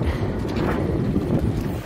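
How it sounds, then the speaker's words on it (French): Strong wind buffets a sailboat as the new mainsail is hoisted, a constant, close, rumbling roar of gusts over the microphone with no voices. "il y a pas mal de vent aujourd'hui"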